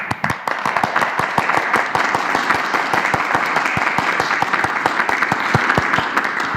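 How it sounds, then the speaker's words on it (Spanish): A press conference audience at Mexico's federal COVID-19 briefing applauds medical personnel, a steady round of many hands clapping at close range, holding even and full throughout. "yo les pediría a todos un aplauso para nuestro personal de salud"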